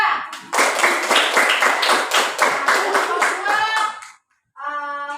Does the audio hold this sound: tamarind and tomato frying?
no